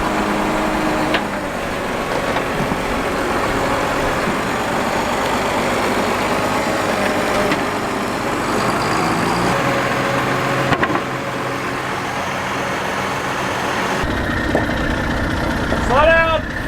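The engine of the 340 tractor idles loudly and steadily at a farm before being driven onto a trailer, a constant low rumble with people talking over it.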